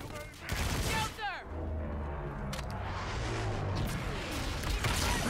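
Explosions and gunfire burst in the Call of Duty: Infinite Warfare video game, with sharp cracks and booming blasts over a dense rumbling battle bed, and a voice speaks over the action.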